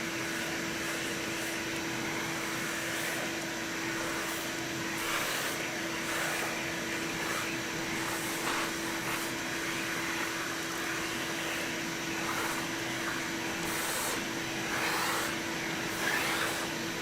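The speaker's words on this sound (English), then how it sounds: "The part of the show where I vacuum." A vacuum cleaner runs continuously close by, a steady loud whine and airy roar with slight surges as it is pushed around, and no talking over it.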